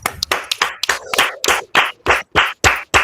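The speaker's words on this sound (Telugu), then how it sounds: "అందుకని నువ్వు క్లాప్స్ కొట్టాలి" A young girl claps her hands in a string of about a dozen sharp, close claps, irregular at first and then settling into an evenly spaced rhythm.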